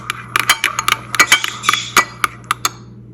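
Spices and red chilli powder being mixed in a bowl for butter paneer masala, a spoon clinking sharply against the bowl in a dozen quick, irregular taps, close and clear with no talk.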